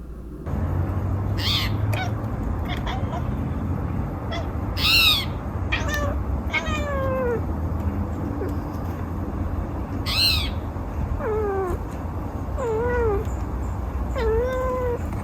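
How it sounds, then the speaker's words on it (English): High, sweeping whistles and chirps recur every second or two from a nearby pet bird indoors, chirping along with birds outside the windows, with a few sharp brighter calls over a steady low hum. "I heard that Boba was chirping along with birds outside the windows"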